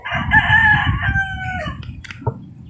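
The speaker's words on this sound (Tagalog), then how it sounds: "ito na lang yung mga natira ko na mga manok mga kasabong" A red gamecock rooster gives a single loud, drawn-out crow close by, with a few short clucks and rustles after it fades, no talk.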